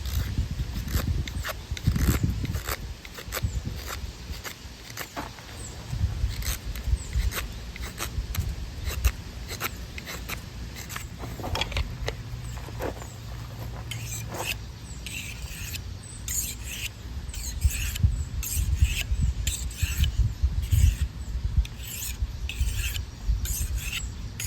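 Metal of a putty knife being shaved and filed while it is reworked into a knife, a steady rasping, scraping texture with repeated strokes and short sharp transients, close and continuous without talk.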